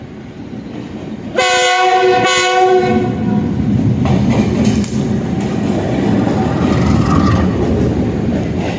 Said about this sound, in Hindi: इस आइकॉनिक ब्रिज के ऊपर और इसके नीचे से गुज़रने वाली ट्रेन कौन सी ट्रेन है